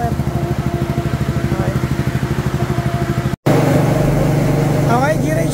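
A Suzuki Raider Fi motorcycle with a remapped stock ECU runs on a dyno, its engine a steady close drone that cuts out briefly and then resumes slightly deeper.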